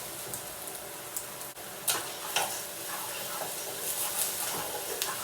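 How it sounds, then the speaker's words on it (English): Mushrooms and oregano sizzle steadily in a hot pan for quinoa risotto, with scattered scraping clicks of a spoon stirring through them, close and continuous. "Give it a good stir so it releases its flavours"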